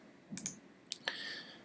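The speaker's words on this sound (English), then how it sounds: "When I click on this" A couple of light computer mouse clicks, sharp and brief, close by over a faint quiet room background.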